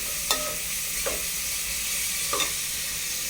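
Onions frying in oil with mustard seeds and curry leaves for a Tamil kuzhambu, a steady low sizzle with a few soft stirring scrapes against the pan and no talking.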